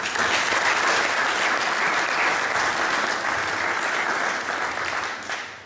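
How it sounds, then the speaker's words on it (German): A large audience applauds at the opening of a climate event, dense sustained clapping that stays loud for several seconds before starting to taper off near the end. "ein riesen Applaus für alle"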